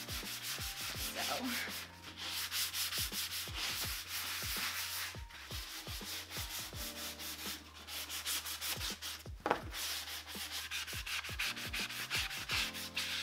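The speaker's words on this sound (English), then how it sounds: "Now I'm gonna go ahead and sand the chair down and I'm just using a sand blocker." A sanding block is rubbed back and forth over a glossy wooden chair to scuff the finish, giving steady, close rasping strokes in a continuous rhythm with one brief bump partway through.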